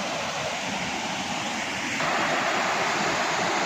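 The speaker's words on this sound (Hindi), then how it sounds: "ये झरना देखे जा रहा है" A waterfall pours into a river near the Kalyan Kedareshwar Mahadev temple at Sailana, Ratlam, making a steady, full rushing roar with no talk over it.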